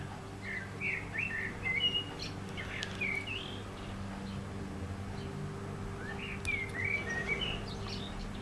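Small birds chirp and warble in short bursts at moderate distance, over a steady low hum of outdoor background noise.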